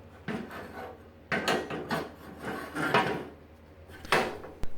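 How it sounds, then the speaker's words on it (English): A lubricated, freshly painted band saw clamp on a Harbor Freight band saw is refitted, giving several rubbing, scraping metal-on-metal strokes and shifting mechanical clunks at close range, ending in a sharp click. "the clamp is reinstalled"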